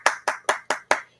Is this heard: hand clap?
yes